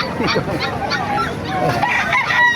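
Chickens and roosters at a Calumpit, Bulacan poultry market cluck and crow continuously, several birds calling over each other close by against a busy background.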